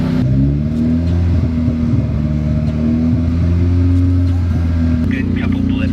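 A boosted Honda K20 engine in a Civic holds a steady, loud idle with rough harmonic drone, rising slightly toward the end, close by with no talk over it.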